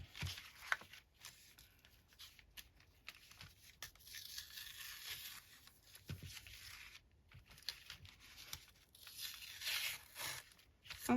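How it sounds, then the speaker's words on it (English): Paper tears and crinkles as the top layer of a base sheet peels off during a craft project, a run of quiet rough ripping bursts and rustles, close and faint. "Oh, that's took the top layer of that paper off."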